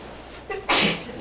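One sharp, loud sneeze nearby, with a quick intake of breath just before it.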